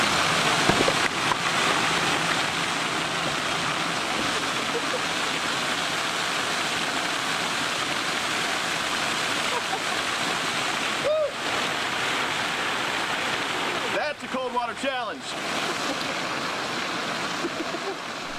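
Cold water poured over a person in a continuous loud splashing rush that lasts throughout, with brief gasping or voice-like breaks near the end.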